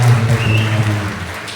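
A brief burst of audience clapping at a business talk, loud and dense for a moment over a low background hum, then thinning out.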